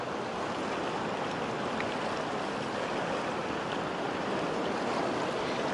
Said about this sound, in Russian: Такие пороги.